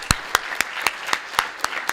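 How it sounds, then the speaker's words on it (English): An audience applauds at the close of a panel discussion, heard as a steady run of evenly spaced, crisp individual claps. "one more round of applause for our panelists"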